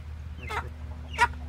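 An Indio Gigante chicken gives two short clucks about half a second apart, fairly close, over a low steady background hum.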